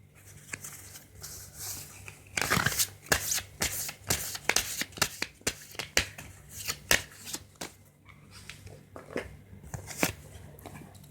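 Tarot cards are shuffled by hand in quick, repeated riffling bursts, close and crisp, with short pauses between runs and no talking.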